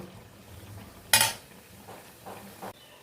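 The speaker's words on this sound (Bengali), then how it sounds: "এবার এটাকে খুব ভালো করে মেশাবো" A utensil strikes a pan with one sharp clink while a taro (kochu) dish is stirred and mixed in it, followed by soft scraping and shuffling of the food.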